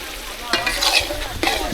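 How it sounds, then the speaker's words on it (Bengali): Fried potatoes dropped into a pot of sizzling mutton curry, with a few sharp stirring scrapes and clatters over a soft, steady sizzle. "ভেজে রাখা আলুগুলো দিয়ে দিলাম।"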